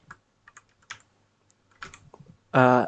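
Sparse, crisp key clicks from a computer keyboard as commands are typed into a Linux terminal while configuring a PHP web server, scattered irregularly at close range before a voice starts speaking at the end.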